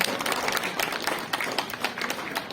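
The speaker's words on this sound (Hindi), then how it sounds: "जोरदार क्लैप" Crowd clapping at the closing of a men's volleyball tournament, a dense, steady patter of many hands that holds at an even level with no gaps, close and fairly loud.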